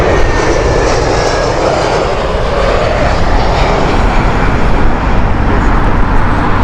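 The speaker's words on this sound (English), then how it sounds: "is the Brussels flight with their Airbus A320" A Brussels Airlines Airbus A320 thunders past at Heathrow on a windy morning, a loud, close, continuous jet engine roar with no talk.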